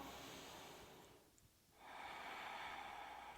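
Slow, steady breathing during a yoga warrior three balance, a long airy exhale fading into a pause and then a fuller inhale, close and soft without talk.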